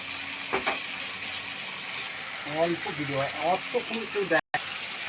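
Vegetable curry frying in oil in a pan, a steady broadband sizzle running throughout, with a voice speaking over the middle and a brief dropout near the end.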